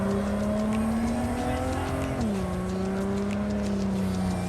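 A car in Cyberpunk 2077 drives and corners, its engine droning steadily with a pitch that drops mid-way as it shifts, alongside faint tire noise, continuous and fairly loud without talk.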